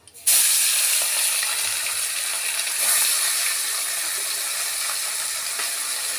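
Aila fish hit hot oil flavoured with black cumin and a split dried chilli in a pan, setting off a sudden loud sizzle that holds steady and strong for several seconds.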